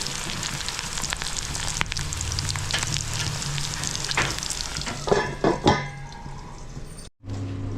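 Green chillies fry in hot oil in a pan for tamarind-leaf liver fry, a loud, steady sizzle close by that builds into a few stirring scrapes before cutting out, then resuming briefly.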